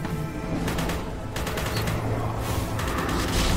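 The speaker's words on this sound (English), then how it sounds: "So we really gotta use the shotgun to smash those." Shotgun blasts in the first-person shooter video game Forgive Me Father, heavy booming shots repeating in quick succession over a dense game soundtrack and effects, loud and close.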